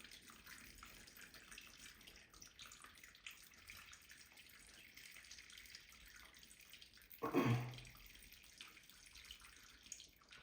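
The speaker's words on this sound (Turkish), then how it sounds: "kekik suyunu şu şekilde üzerine ilave ediyorum arkadaşlar" Brewed thyme water poured over the mixture while making pollen cake for bees, a faint steady trickle with a short louder splash partway through.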